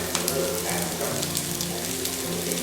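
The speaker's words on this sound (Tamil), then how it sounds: "வெங்காயம் நல்லா ப்ரௌன் ஆகணும், அது வரைக்கும் ஃப்ரை பண்ணிக்கலாம்" Onions fry in hot oil toward browning, giving a steady close sizzle and crackle that holds for a couple of seconds without pause.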